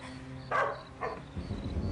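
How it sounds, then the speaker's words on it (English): A dog gives two short barks, the first louder, followed by a low rumble, with no voices. "Belinda, that's a dog barking"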